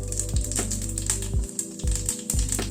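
Panch phoron spices and a dried red chilli crackle and sizzle in hot mustard oil over a low flame, with a steady close fry broken by a few sharp pops and soft clinks.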